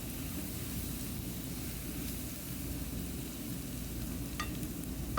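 Garlic, ginger and chopped onions sautéing in olive or cooking oil, giving a steady, close, even sizzle and crackle with no pauses and a few brief clinks near the end.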